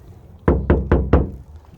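Four evenly spaced knocks on the untreated back door of a 2022 Ford Maverick, each a loud, close, ringing hollow thump with a short sheet-metal decay, heard alone.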